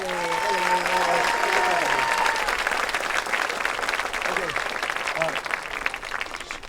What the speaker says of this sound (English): Everyone get a round of applause.